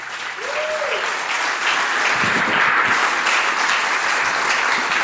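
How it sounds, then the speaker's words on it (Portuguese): Church congregation applauding during a sermon, a dense steady roar of many hands clapping that swells and holds for several seconds, with faint voices mixed in. "Quer aplaudir? Pode aplaudir."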